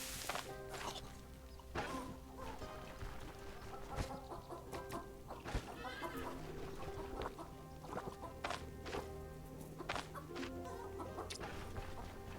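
Chickens cluck and squawk in the fantasy role-playing game StoneShard, repeated bursts over a steady game ambience with occasional sharp thwacks, fairly loud and without talk.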